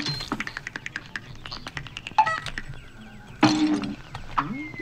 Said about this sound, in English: I'm just gonna keep on clicking.